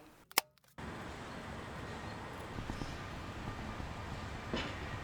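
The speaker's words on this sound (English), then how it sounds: "I am at the Amtrak, or the Greyhound Amtrak station in Roseville." A train passes at the Amtrak and Greyhound station in Roseville, a steady rumbling wash of rail noise that begins after a few sharp clicks and continues evenly throughout.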